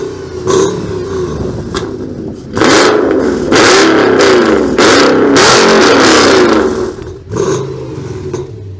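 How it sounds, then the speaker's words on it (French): Audi RS4 with a full straight-pipe exhaust revs hard nearby, several loud raw blips and a sustained high-rev roar with audible pitch swings, very close and saturating. "Alors les gens qui veulent un RS4 full tube 100X, voilà, ça fait ça."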